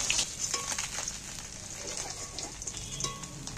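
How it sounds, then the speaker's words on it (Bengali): Pomfret fish shallow-frying in plenty of oil in a pan as pieces are turned over, a continuous moderate sizzle with a few soft scrapes and clinks, no voices. "বাকি মাছগুলো আমি নাড়াচাড়া করে উল্টে পাল্টে ভালো করে ভেজে নেব।"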